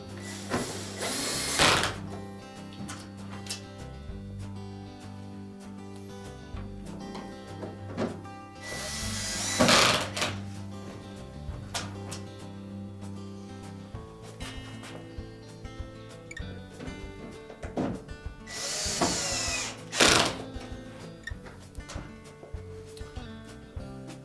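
Small screws are driven into the plastic control panel of a Frigidaire dishwasher. Three loud bursts of whirring tool noise come spaced well apart, with quieter clicks and rattles between them and steady tonal background music.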